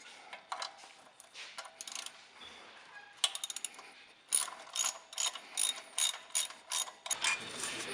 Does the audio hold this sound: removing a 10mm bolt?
yes